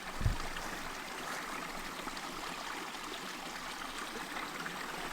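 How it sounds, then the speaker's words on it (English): A small forest stream flows and trickles steadily nearby, a soft continuous wash with a brief thump at the start and no voices. "I can hear the stream down here"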